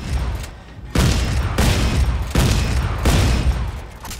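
Sustained gunfire in the sci-fi horror video game Dead Space 3, loud and dense, arriving in heavy bursts with brief gaps between volleys.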